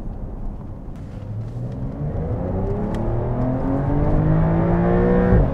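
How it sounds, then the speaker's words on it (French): A Porsche 911 Targa 4 (992) accelerates hard, its engine note climbing steadily in pitch and growing louder over several seconds, with a sustained rising roar and no voices. "j'aime bien les petites accélérations en Porsche"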